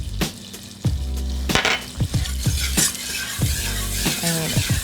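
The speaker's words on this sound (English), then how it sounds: "Let's whisk that together so it melts down" Butter melting with vanilla extract and cinnamon in a hot pan while a whisk scrapes through it, steady loud sizzling under a series of quick metallic strokes and knocks against the pan, close by, with no talking.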